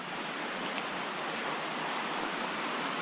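Big Creek rushes along a forest trail in Olympic National Forest, Washington, a steady broadband hiss of flowing water, close and constant, with no voices.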